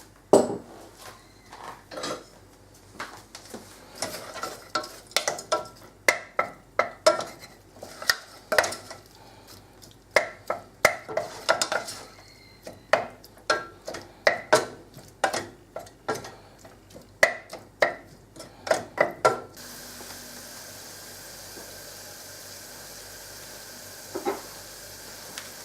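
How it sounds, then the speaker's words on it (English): Onions sautéing in a pan over medium heat, with frequent clinks and scrapes of a utensil against the pan over a gentle sizzle, close and quiet, then the sizzle continues alone near the end. "we're just going to saute the onions, which is basically just slowly cook them until they become clear"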